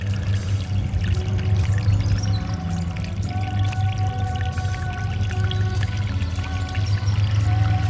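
Water pours and trickles continuously while paint brushes are rinsed in reused dirty water, a steady close splashing flow with no pauses.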